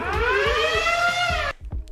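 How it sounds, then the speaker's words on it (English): A loud, steady Planet Fitness lunk alarm wails continuously in a gym, its rising siren tone holding for about a second and a half before cutting off abruptly. "we never set the lunk alarm off"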